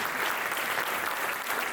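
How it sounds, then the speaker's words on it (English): A crowd at a community anniversary event at a university applauds, a steady, dense wash of clapping with no distinct individual claps, moderately loud and unbroken throughout. "Give yourselves a round of applause."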